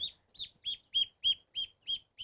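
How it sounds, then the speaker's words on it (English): A small duck at a farm gives a quick run of about eight high, evenly spaced peeping calls, clear and close with no talk over them. "And then there's the duck"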